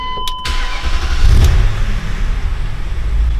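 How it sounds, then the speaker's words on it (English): A BMW N62 V8, freshly overhauled and sitting on a lift in a workshop, cranks briefly and fires quickly, swelling into a loud, smooth idle that holds steady. "Let me start it up to show you how fast it's starting."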